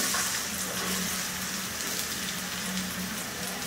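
Chopped onions sizzle in hot oil that was used before to fry eggplant, a steady broadband hiss that stays even and fairly loud throughout without speech.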